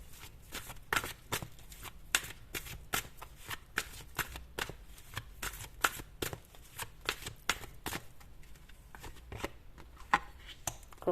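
Tarot cards are shuffled by hand in a quick run of crisp riffling bursts and soft slaps, close and moderately quiet, continuing steadily with no talk.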